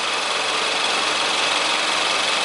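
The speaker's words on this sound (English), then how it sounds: "that compressor clutch is engaged right now. Okay, it's running." A car's AC compressor runs with its clutch engaged under the hood, giving a steady, loud mechanical whir and engine hum with no change throughout.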